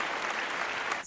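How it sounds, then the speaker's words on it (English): A brief applause sound effect, a burst of dense clapping lasting about a second, plays alone on a podcast. "Round of applause."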